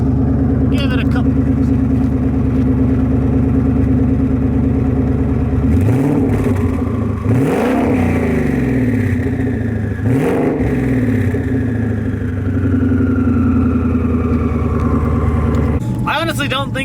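A 1000 HP turbocharged Mustang with no exhaust revs several times from a loud, rough idle, each blip rising sharply and falling back, heard from close inside the car.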